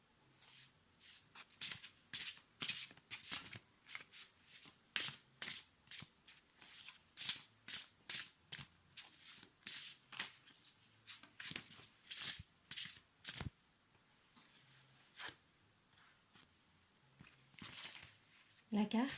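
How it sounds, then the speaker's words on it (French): Oracle cards are shuffled by hand, a long run of quick, crisp riffling bursts in fairly steady rhythm that grows sparser toward the end, close and alone. "je vais battre les cartes"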